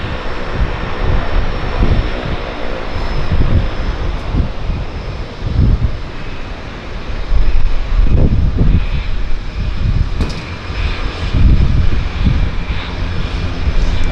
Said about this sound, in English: We've got a Twin Otter landing right here.